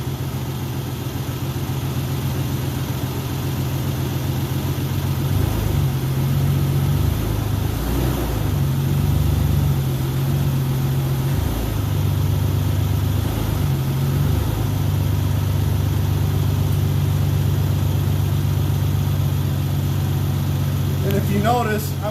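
A 2002 Isuzu Trooper LS with a 6VE1 V6 and 4L30E transmission idles steadily while being shifted through the gears, its low hum dipping and wavering slightly midway, with a faint voice at times.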